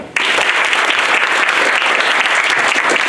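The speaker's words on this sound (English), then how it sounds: "Clap that." Audience applause bursting out suddenly at a school farewell celebration, dense and loud, sustained evenly with no voices on top.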